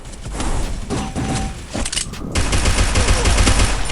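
Dense, loud gunfire in the mobile shooter Free Fire, overlapping shots and impacts in a continuous chaotic barrage with thuds and a brief shattering sound.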